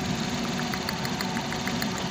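Suzuki DA63T mini truck engine idling with one ignition coil unplugged, a close, steady rumble with a faint, regular ticking pulse running through it, and no voices.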